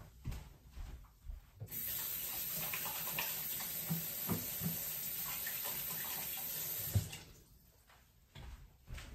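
A kitchen water tap runs steadily while hands are washed during home dinner cooking, a loud, continuous splashing hiss lasting several seconds before cutting off, with quieter handling sounds around it.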